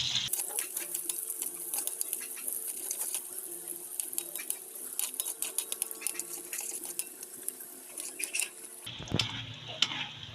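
Onion and garlic fry in a pan after pork has been removed, a continuous bright sizzle with frequent small stirring scrapes and crackles, fairly close, before the sound changes abruptly near the end.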